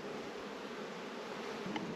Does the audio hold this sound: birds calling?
no